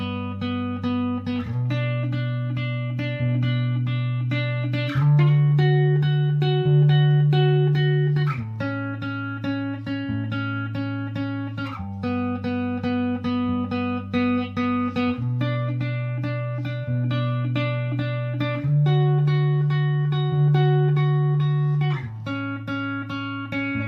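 Guitar playing the intro and verse of a song, with sustained chords changing every few seconds in a steady, clear, close progression, alone without talk.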